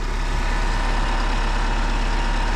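Steady, loud, unbroken drone of a vehicle engine idling after haymaking, heavy low rumble with a broad hiss on top, close and alone.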